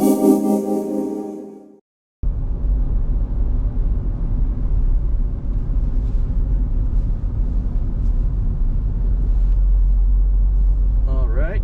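A car drives along Skyline Boulevard on a warm sunny day, a steady low interior road rumble and engine drone that follows a brief burst of sound and a moment of silence.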